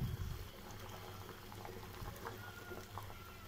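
Andhra-style sambar boils up in a pot on a high stove flame, giving a faint, steady bubbling and simmering hiss with a low hum underneath.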